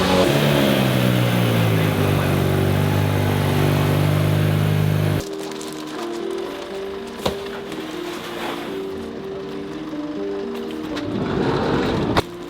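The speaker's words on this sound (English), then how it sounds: "The engine sounds good." A Nissan Silvia S15 with a swapped engine runs nearby, a steady idle or rev with clear harmonic drone, dropping lower and rougher partway through, with small knocks and clicks over it.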